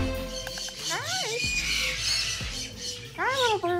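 A pet bird being trimmed squawks repeatedly up close, harsh rising and falling cries in quick bursts, with a person's voice occasionally mixed in.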